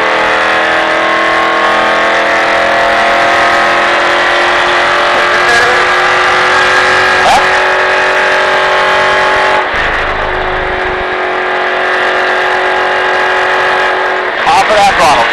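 A NASCAR stock car engine roars loud and close from the cockpit on a Las Vegas track, a steady high harmonic drone that dips and rises as the throttle comes off and back on, with a coach's voice speaking over it throughout.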